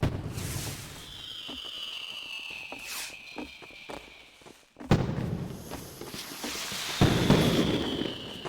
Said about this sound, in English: Dude, I can hear fireworks.